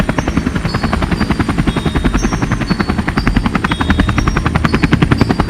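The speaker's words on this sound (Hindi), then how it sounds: "अरे ये क्या, ये तो हेलीकॉप्टर है" A helicopter thunders close by, its rotor beating in a fast, steady rhythm that grows slightly louder toward the end.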